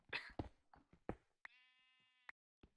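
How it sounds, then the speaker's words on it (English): A single sheep bleat in Minecraft, a short wavering tone standing out after a few brief clicks and thumps of in-game activity, with quiet gaps around it. "I hear sheep"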